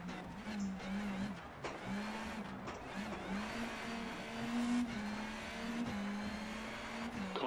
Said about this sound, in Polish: Czuję, jak koła się tutaj, wiecie, zagrzebują. Więc nie chcę zbyt brutalnie redukować, żeby mieć trochę trakcji.